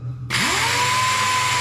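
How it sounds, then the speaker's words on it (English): A dual-action sander spins up on the paint of a hundred-year-old fuel tank, a sudden loud, steady whirring drone after a brief quiet start, close and unbroken. "I'm using the DA and not an angle grinder because I don't want to make any of this material any thinner"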